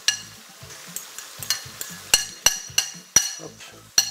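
Sliced onions dropped into potatoes frying in oil for a tortilla, with a steady sizzle under a series of sharp clinks and scrapes of a utensil against the pan, close and moderately loud.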